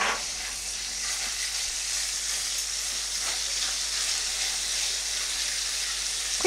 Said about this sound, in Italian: lasciamo rosolare a fiamma molto bassa in modo che l'aglio non brucia e i filetti d'acciuga si sciolgono insaporendo l'olio